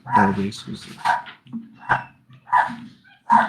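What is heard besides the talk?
dogs barking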